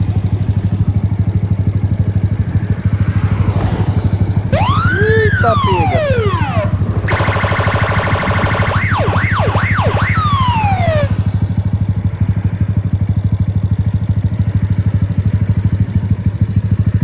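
A police car siren passes at night on a city street, wailing and yelping loudly for several seconds over the steady rumble of an idling Honda CB 190 R motorcycle close by.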